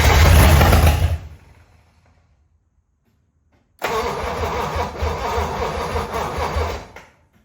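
A 1956 DeSoto engine running for the first time in 15 years after carburetor adjustment: a loud rough burst that dies away into near silence, then the engine catches again and runs steadily for about three seconds before cutting off.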